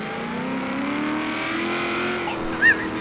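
A supercharged 6.2-litre V8 cruiser in Forza Horizon 3 revs hard, its engine note and blower whine rising steadily and loud, with a brief sharp tire squeal near the end.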